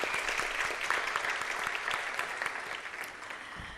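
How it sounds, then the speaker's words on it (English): Audience applause for a mridangam player at a Bharatanatyam arangetram, a dense, steady wash of clapping from a crowd that carries on for the whole stretch and eases off slightly toward the end. "A big round of applause for our Mridangist."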